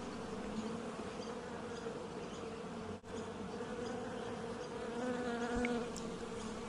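Dense, continuous buzzing of many honey bees up close inside a hive, a steady droning hum with brief louder passes of individual insects.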